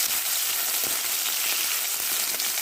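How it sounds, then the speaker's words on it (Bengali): Prawns fry in mustard oil in a wok, giving a steady, dense sizzle that crackles evenly throughout with no voices. "এবার চিংড়ি মাছগুলো ভালো করে ভেজে নেব।"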